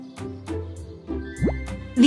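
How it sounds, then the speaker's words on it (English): A cartoon owl blows soapy water through a straw, making a few short bubbling plops and drips with brief pauses between them, close and fairly clear, ending in a louder burst of bubbling. "The owl is blowing bubbles."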